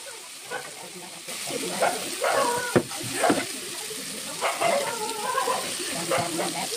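Chicken pieces sautéing in hot oil in a pan, sizzling under irregular stirring and scraping, with brief louder clatters and some voices in the background.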